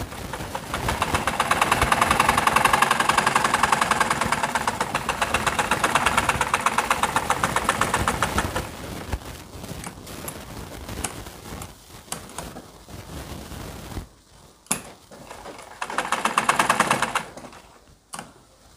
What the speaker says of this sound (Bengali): এখন এই সেলাই পট্টি বরাবর আমার সেলাই করে দিব